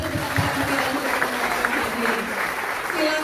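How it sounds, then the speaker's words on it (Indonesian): Applause from a seminar audience welcoming guests, a steady wash of clapping heard at moderate distance throughout, with a voice faintly audible underneath. "Berikan juga tepuk tangan"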